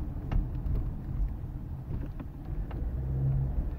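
A 2013 Ford Escape with 151,000 miles rolls along a road, a low steady engine and tyre rumble heard from inside the cabin, with faint clicks and no voices.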